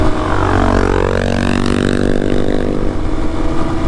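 A 2022 Peacesports Brozz Recon 250 motorcycle with a counterbalanced engine runs wide open, its loud, steady engine note rising in pitch as it accelerates, with wind and road rumble underneath.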